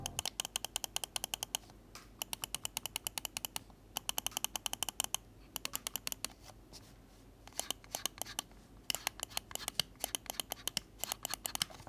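Rapid bursts of short, crisp clicks from the side buttons of a Razer DeathAdder V3 Pro wireless gaming mouse, pressed close to the microphone in irregular clusters with brief pauses between runs.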